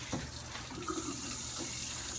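Water runs from a sink tap during handwashing, a steady soft rushing stream that continues evenly throughout, quiet and close, with no talk.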